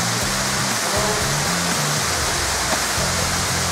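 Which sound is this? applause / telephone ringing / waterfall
waterfall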